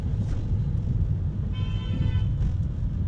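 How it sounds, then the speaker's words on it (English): Car horns honk in the middle of busy motorway-bound traffic, a steady road rumble underneath with a sustained toot rising around the middle and fading out near the end. "People blowing hooters"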